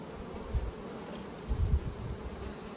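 Low, steady insect buzzing from many honey bees at hive frames, swelling in two brief louder bursts, close by with no talking.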